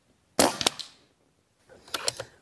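Rossi Outlander air rifle firing a slug pellet at a target, two sharp cracks about a second and a half apart, each with a quick rattling tail, close and loud.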